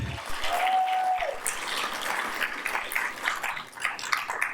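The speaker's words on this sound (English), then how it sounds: "let's all give her a round of applause" Audience at a Southeast Asia oration event applauds, a sustained wash of many hands clapping at moderate distance that slowly thins toward the end.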